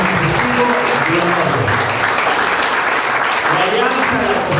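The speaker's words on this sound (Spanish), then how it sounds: "En estos momentos también damos otro fuerte aplauso porque nuestra viceministra está firmando" Audience applause at a signing ceremony for a commitment agreement between IICA and the Zacatecoluca mayor's office, steady and close clapping that runs throughout while a voice speaks over it.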